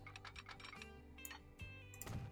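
Quick, light mouse clicks rattle in a short burst while playing the train and logistics game Transport Fever 2, close and crisp over a steady tonal game soundtrack.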